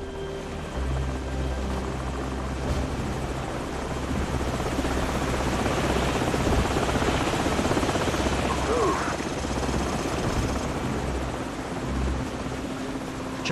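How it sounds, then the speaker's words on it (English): Enemy helicopters in the Call of Duty 4 mission Ultimatum: steady rotor thump and engine roar at constant loud level throughout, with faint battle noise underneath. "Enemy helicopters."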